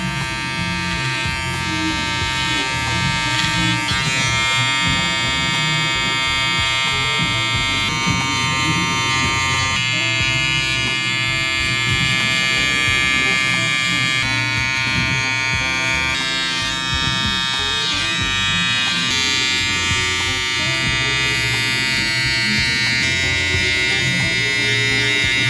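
An electric hair clipper buzzes steadily and close up while cutting a taper fade, a constant bright hum with slight variations as it glides through hair.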